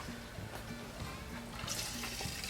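Gasoline poured into the carburetor of a rare 1950s engine makes a steady, close liquid trickle and splash that runs continuously over a faint low hum.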